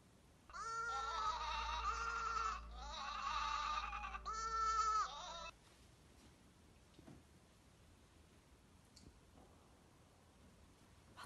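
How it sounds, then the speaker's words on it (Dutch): A long, wavering animal bleat in two bursts, loud and close, then fading to quiet room noise. "Een schaap."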